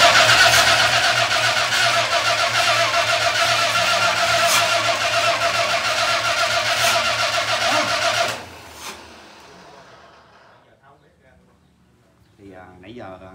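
A repaired Yamaha Hino boat engine runs loud and steady with a dense mechanical roar, then cuts off abruptly around eight seconds, leaving quiet room tone and faint talk at the end.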